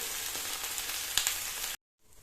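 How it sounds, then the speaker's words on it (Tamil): Bitter gourd slices frying in oil, a steady close hiss of sizzling with a small crackle midway, then cutting off abruptly before resuming faintly. "ஒரு இருபது நிமிஷத்துக்கு அந்த எண்ணெயிலேயே நல்லா சுருண்டு வர்றது அளவுக்கு வறுத்து எடுக்கணும்"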